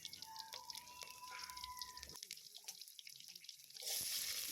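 Water is poured into a pan of cooking prawns, a steady splashing trickle that fades out and then swells into a louder, hissing rush at the end.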